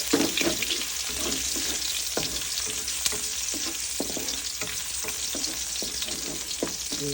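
Garlic fries in a pan with ginger for arroz caldo, a continuous bright sizzle overlaid by repeated scraping and tapping strokes of a spoon as it is stirred.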